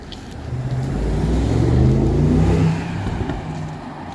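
A car on a residential road driving on trade plates accelerates past, its engine swelling loud as it nears and then fading away, with no voices.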